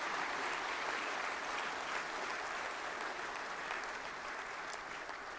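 Distant, even applause from a large audience at a formal GST Day ceremony rolls on as a soft, uniform hiss of many hands clapping, with no individual claps or voices standing out.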